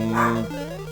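A dog indoors in a room gives a single short bark, loud and close, its tone sliding down into a brief whine.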